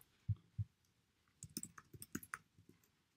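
Keys on a computer keyboard are tapped in a quiet room, two firm strokes first and then a quick burst of lighter, uneven typing, all close and fairly soft.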